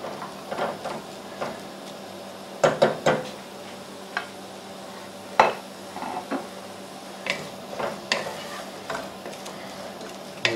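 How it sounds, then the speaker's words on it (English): Onions being stirred in a cooking pot, with scraping and clinking of a utensil in irregular bursts over a soft background, close and moderately loud, no talking. "we'll just give those a little bit of a stir"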